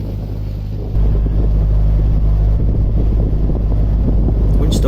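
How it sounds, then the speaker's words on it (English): Strong wind buffets the microphone aboard a narrowboat on a river, a loud, constant low roar that jumps up after the first second and rumbles on without letup, with a boat engine faintly underneath. "The wind started to ease off as I approached Ely with a bit more shelter."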